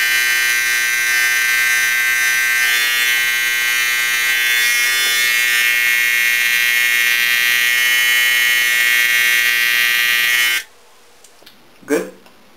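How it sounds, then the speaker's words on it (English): Electric hair clippers buzz steadily and loudly while cutting a long-hair line-up for 360 waves, running continuously for about ten seconds before switching off, followed by a brief soft rustle. "All you're going to do is just take the clippers and come down"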